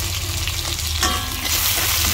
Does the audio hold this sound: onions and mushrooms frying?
yes